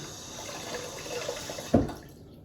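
Tap water runs steadily into a bathroom sink during a wet shave, a continuous close splashing flow with a brief louder gush near the end.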